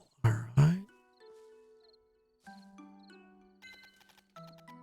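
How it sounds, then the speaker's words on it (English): A silver star bell in the video game Little Witch in the Woods: after two short vocal bursts, soft chiming tones ring out in separate clusters, tinkling and faint, with sustained bell-like notes. "That call. Silver star bell."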